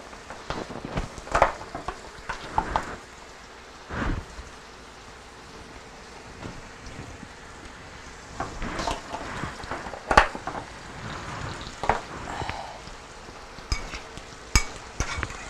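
Sauce seasoned with dried oregano simmers down in a pan, giving a steady low sizzle and bubble broken by occasional sharp clinks and scrapes of stirring.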